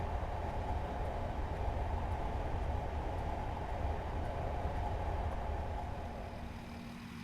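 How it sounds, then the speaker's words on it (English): A Class 37 diesel locomotive, Armstrong Powerhouse sound pack, in a train simulator on the Settle & Carlisle route, with a steady loud rumbling engine drone and rolling noise, constant throughout before easing slightly near the end. "I have the Class 37 Pro sound pack installed from Armstrong Powerhouse"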